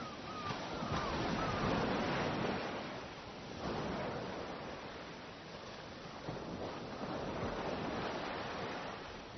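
Sea waves washing on a beach, a continuous broad roar of surf that swells and recedes in slow surges, with some wind noise mixed in.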